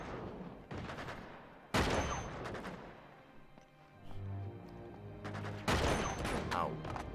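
Rifle gunfire in Uncharted 2 comes in several sharp bursts of rapid shots separated by short gaps, fairly distant and moderate in level, with a low hum between volleys and no talk.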